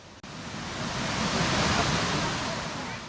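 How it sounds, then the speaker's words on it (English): Waterfall near Luang Prabang, Laos, with turquoise natural pools, a steady broad rushing roar of falling water that swells slightly and continues throughout. "The sounds of the waterfalls with the serenity and tranquility of this idyllic environment"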